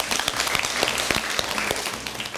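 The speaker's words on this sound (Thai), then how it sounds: "ปรบมือให้เพื่อนหน่อย" Students in a lower-secondary maths class clap for their classmates, a brief scattered round of hand claps with distinct individual slaps, close and moderately loud, with no talking over it.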